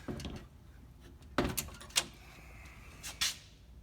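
The door of a 1963 Studebaker Lark Daytona V8 convertible is handled, producing a few sharp clunks and latch clicks spaced over a few seconds, close by against a quiet background.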